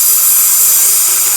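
A voice mimics a beer can being cracked open quietly, producing a steady, loud, breathy hiss that holds evenly for over a second with no other sound.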